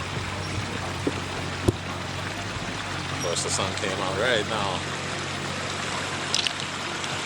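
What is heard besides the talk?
water running through a newly built pondless waterfall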